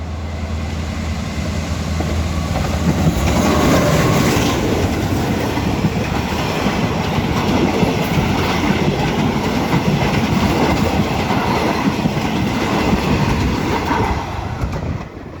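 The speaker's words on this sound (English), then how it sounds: "Oh, I think this is train 102" A train runs through a station on the northern Thai railway, close and loud, with a steady rumble and clickety-clack of wheels over the rails for the whole stretch, easing slightly at the very end.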